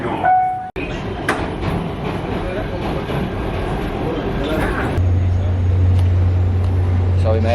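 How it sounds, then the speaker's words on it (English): A PATH subway train bound for Journal Square rumbles along the rails with steady clattering noise, then a low, sustained motor hum rises as it runs on, loud and close throughout. "This is the train to Journal Square."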